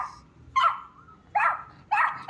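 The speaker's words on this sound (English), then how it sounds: "No barking. Why barking so much?" A dog outside a house barks three times in sharp, close bursts spaced about a second apart, with a short whine between the first two.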